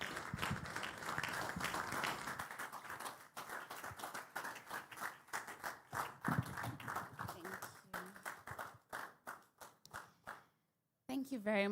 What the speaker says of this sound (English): With a round of applause, please welcome with me Dr. Oreoluwa Lagunjo.